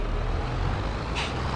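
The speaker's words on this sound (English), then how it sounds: "I'm glad I picked this tractor. That's struggling up that hill." Tractor engine labouring up a hill in a farming video game, a steady low diesel drone with a brief hiss of air partway through, close and constant.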